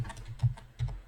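Close typing on a computer keyboard, a quick run of soft key taps with a couple of heavier strokes, alone without speech.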